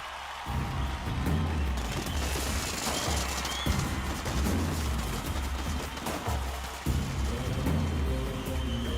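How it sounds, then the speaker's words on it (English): Fireworks are set off at a grand film celebration stage event in Mumbai, a dense stretch of crackling bangs and booming bursts over crowd noise, with a few sharper pops standing out. "Can I have the fireworks button, please?"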